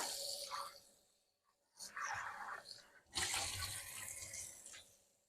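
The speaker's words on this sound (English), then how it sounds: "I'm going to rinse the fish." Ahi tuna is rinsed under a running kitchen tap, the water gushing and splashing in uneven bursts with a brief pause in between, close and fairly loud, no talking.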